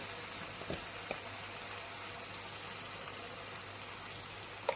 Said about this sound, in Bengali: তারপর এটা খুব ভালো করে কষিয়ে নেব